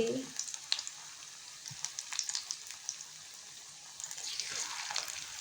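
Spinach pakoras sizzle and crackle softly in hot oil, with scattered light pops and spatters throughout.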